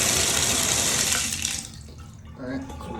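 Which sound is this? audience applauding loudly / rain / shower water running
shower water running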